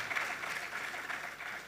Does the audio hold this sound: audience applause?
yes